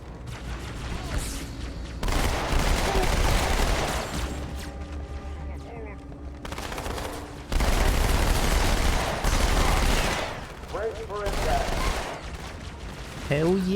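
SMG fire in Halo 2 rattles in loud, sustained bursts separated by short pauses, with mechanical clatter and a voice talking between the volleys.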